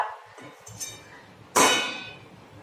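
A metal lid lifted off a kadai on the stove, giving a single bright clang that rings out and slowly decays, preceded by faint clinks.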